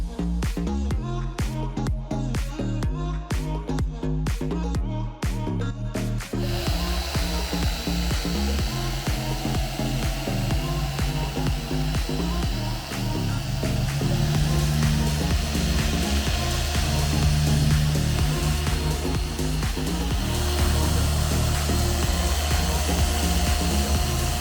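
Car polisher buffing the black paint of an L200 Triton pickup, a steady continuous whir that holds loud throughout with no talk, shifting slightly in pitch as the pad moves.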